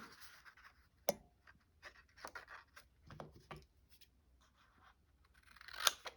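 Scissors cut through paper or card in a few quiet, close snips and scrapes spread across a mostly still moment, with a sharper snip near the start and another near the end.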